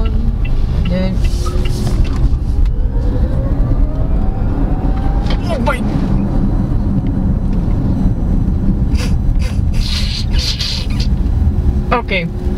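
A Weltmeister W5 electric car accelerates in sport mode: a thin motor whine climbs steadily in pitch over a constant roar of road and wind noise.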